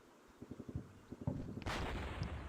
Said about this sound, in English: That's a lot of mortar rounds.